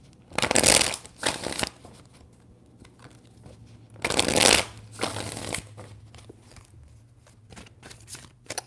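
Tarot cards being shuffled in two separate bursts of crisp riffling, each lasting about a second and a half, close and quiet, with softer card handling in between over a low background hum.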